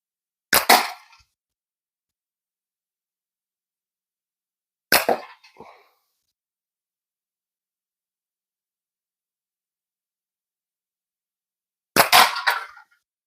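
A repaired slingshot fired three times outdoors, each shot a sharp snapping crack with a short trailing rattle, separated by several seconds of near silence.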